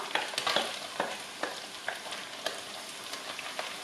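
Pork pieces with onion and pepper fry in a pan for cabbage with pork, giving a steady broadband sizzle with repeated sharp scrapes and clicks of stirring, fairly quiet and alone.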